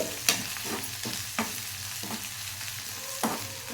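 A paste of ginger, garlic, cumin and coriander sizzles in a hot pan, with a utensil scraping and stirring it in a few sharp strokes over the steady frying hiss.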